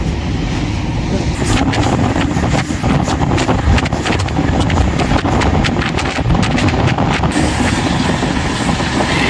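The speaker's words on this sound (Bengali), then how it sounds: "একে বেঁকে পাহাড়ের মধ্যেখান দিয়ে ট্রেন চলেছে" Gitanjali Express rumbling steadily as it winds through hilly country, a dense continuous roar of wheels and carriages with rhythmic clattering throughout, loud and close from on board.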